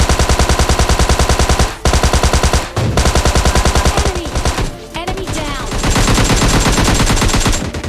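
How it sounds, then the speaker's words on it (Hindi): Rapid automatic gunfire during a squad fight in PUBG Mobile Lite, loud and continuous bursts with brief pauses, layered with overlapping shots from several weapons. "लेकिन फाइट करने के बीच में बगल से भी फायरिंग की आवाज आई थी"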